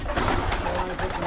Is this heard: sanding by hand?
no